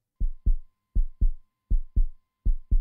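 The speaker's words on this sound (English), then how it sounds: "this one is a heartbeat sound" A heartbeat sound effect triggered from a soundboard: four paired lub-dub thumps, low and deep, evenly spaced and fairly loud, with silence between pairs and nothing else heard.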